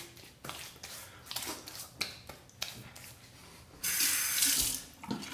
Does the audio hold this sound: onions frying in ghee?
no